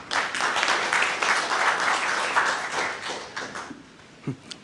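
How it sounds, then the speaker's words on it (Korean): Audience applause welcoming a speaker at a forum on infrastructure cooperation in Jeju, a steady dense burst of clapping from a large crowd that thins and fades toward the end. "큰 박수로 맞이해 주시기 바랍니다."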